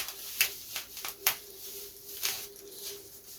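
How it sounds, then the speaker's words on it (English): Dried white glue cracks free from balsa wood on a pre-WW1-style RC aircraft model, giving a few sharp, close, dry snaps spaced apart over a faint steady hum. "As the white glue breaks free from the balsa."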